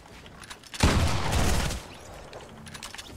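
Gunfire in Fortnite Battle Royale, a sudden loud burst of shots and blasts that sustains for about a second before fading into softer background noise.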